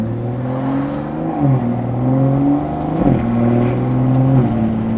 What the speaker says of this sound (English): Of course, I decided to leave the dyno at rush hour, so it's nothing but traffic right now.